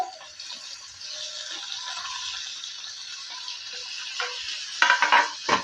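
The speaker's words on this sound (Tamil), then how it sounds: "சேர்த்துட்டு இப்போ இதை நல்லா வதக்கி எடுத்துக்கலாம்" Shallots, garlic, a dried chilli and cut tomatoes sauté in a pan for tomato chutney, a soft steady sizzle with light stirring and a few clinks of a utensil near the end.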